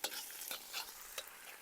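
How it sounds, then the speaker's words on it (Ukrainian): Food sizzles in a pan while a utensil scrapes and stirs in quick, repeated strokes, close and fairly quiet; chanterelle mushrooms being stirred in a frying pan. "Мішаємо, мішаємо, мішаємо, мішаємо."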